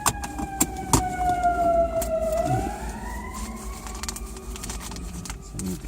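An ambulance siren wails as the vehicle passes, its pitch sliding down then rising again, with traffic noise and a few sharp knocks around it.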